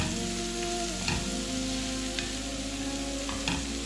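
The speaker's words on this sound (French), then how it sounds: "Je vais continuer de mélanger." Green peppers fry in a pan with a steady sizzle while a utensil scrapes and knocks against it in a few stirs, with a constant low hum underneath.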